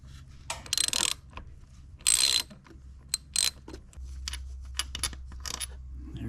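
A hand ratchet working on a bolt of a Honda CRF300L motorcycle during a windshield install, giving several short bursts of quick metallic clicking that are close and crisp, separated by pauses and low background hum.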